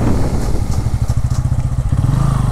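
A Bajaj Pulsar N160 with dual-channel ABS brakes hard, and its exhaust gives a loud, close, steady low beat that burbles and crackles as the engine slows.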